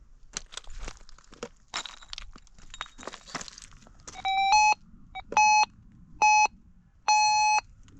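While gold prospecting, a metal detector reacts to a rusty iron chip. Crunching and scraping come first, then four clear, loud electronic beeps in a short rhythmic series.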